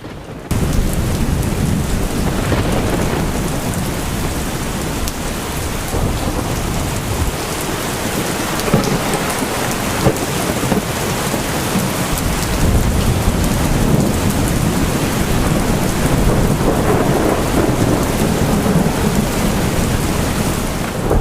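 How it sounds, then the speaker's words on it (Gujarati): Heavy monsoon rain pours down in Gujarat with a loud continuous roar while deep thunder rumbles and rolls throughout, close and intense, with no voices. "ગુજરાતમાં ચારેકોર વરસાદ વરસી રહ્યો છે"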